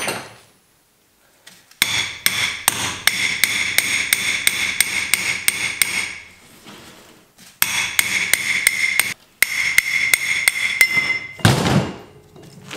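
Sharp metallic hammer strikes on bearing races in quick, regular bursts, ringing with each blow, pausing briefly between rapid runs of hits; loud and close.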